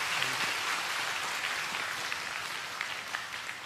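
A congregation applauds at a bishop's ordination Mass in the Ban Mê Thuột diocese, a dense, steady wash of many hands clapping together that holds at an even level throughout.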